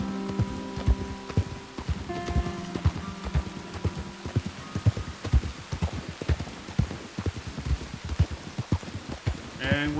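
Horse hooves clip-clop at a steady walking rhythm in the game Red Dead Redemption 2, close and distinct over a soft patter of rain, with faint voice-like sounds in the mix.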